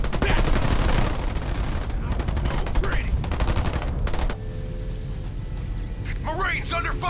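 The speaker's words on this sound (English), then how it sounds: "Marines under fire from enemy." Sustained automatic gunfire pours down on marines in Halo Wars 2 battle, dense rapid bursts filling the first four seconds before easing into a lighter crackle as in-game voices talk over it.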